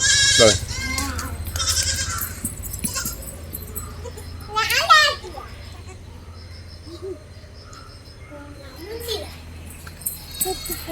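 Crossbreed goats, including a milking nanny and her two kids, bleat several times, close and loud, between bursts of people talking nearby, with quieter stretches of background chatter.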